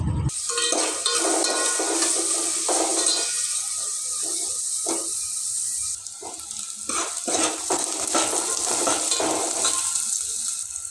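Onions sizzling and frying in a pan, a steady bright hiss running throughout with occasional stirring clatters, close and fairly loud with no talking.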